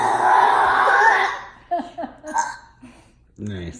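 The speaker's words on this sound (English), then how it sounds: "Grandma can burp on command" A grandmother lets out a long, loud burp on command, followed by scattered giggles and laughter from people nearby.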